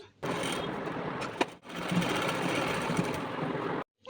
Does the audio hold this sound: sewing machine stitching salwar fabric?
yes